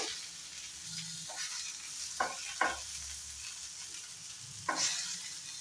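Vegetables with Kashmiri chili powder frying in a pan for mooli kadhi, a low steady sizzle broken by a few sharp stirring scrapes, close and quiet.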